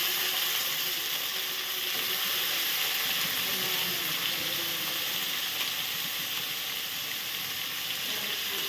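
Chopped mango, freshly washed, hits hot oil with mustard seeds in a frying pan for a sweet chutney, giving a steady, loud, dense sizzle and crackle that holds evenly throughout with no voice.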